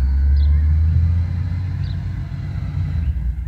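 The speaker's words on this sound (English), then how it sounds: "Ayun, yun ang garbage truck dumaan." A garbage truck passes on a residential street, a steady low engine rumble that is loudest at first and eases slightly while holding throughout, with faint distant chirps above it and no talking.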